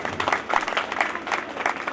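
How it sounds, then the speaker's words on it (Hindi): A devotional jagran gathering clapping loudly together, a dense continuous patter of many hands at close range with no talk. "लगा दीजिए जोर से ताली।"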